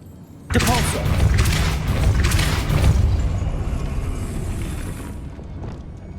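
In Hogwarts Legacy, a Depulso spell lands as a sudden, heavy booming blast after a brief quiet moment, then a rumbling roar that stays loud for several seconds before slowly tapering off.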